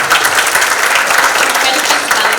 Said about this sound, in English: Just a big round of applause to everyone.